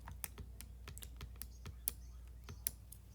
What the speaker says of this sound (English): let me type these in my calculator real quick